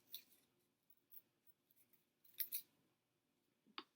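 Scissors snip through paper to cut out small antennas for a bumblebee craft, a few quiet, close cuts in short bursts with pauses between them.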